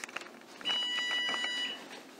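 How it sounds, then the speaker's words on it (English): An oven timer beeps in a kitchen while scones bake, a clear run of repeated high electronic tones lasting about a second, with soft background noise before and after. "So there goes the timer again."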